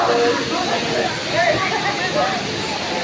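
Waterfall with a steady broad rushing roar close by, heard under overlapping voices talking.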